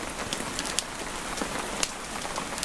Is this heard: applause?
no